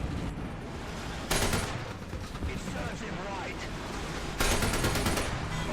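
Gunfire from tank cannons and guns in the War Thunder video game, heard as two loud broadband blasts a few seconds apart over a steady din of battle noise.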